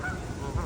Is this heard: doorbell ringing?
no